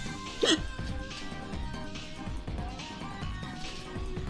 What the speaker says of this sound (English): I've got hiccups now